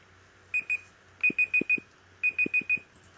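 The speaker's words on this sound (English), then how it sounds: "we know whenever we do these, we have a 1 hour timer" A one-hour timer alarm beeps in three quick bursts, first two beeps and then two groups of four, each with a short tap-like thud, fairly quiet against a faint background.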